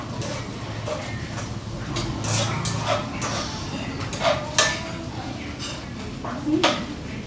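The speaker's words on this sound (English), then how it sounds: "Stir fry again. Okay. Until the smoked beef is brown." Smoked beef stir-fried in a pan for spaghetti aglio olio, with scattered metallic scrapes and clinks of utensil against pan over steady background noise.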